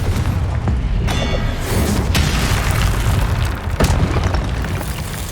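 A Confringo fire spell explodes in the Hogwarts Legacy video game, a loud sustained booming blast with rumbling bursts and crackling pops throughout, dense and close.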